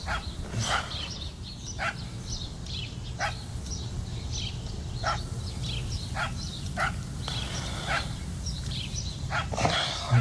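A dog barks repeatedly in the video game Tender Loving Care, sharp separate yaps spread across the scene at moderate distance over a steady low ambient hum, with no talking.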